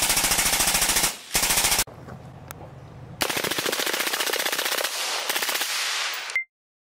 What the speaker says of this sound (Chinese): 听一下真实的消音器